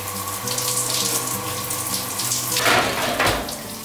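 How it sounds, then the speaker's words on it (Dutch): Shower water runs in a steady, close hiss of spray, with a brief surge of splashing near the end and a faint hum underneath. "gewoon zoals deze manier, we douchen gewoon."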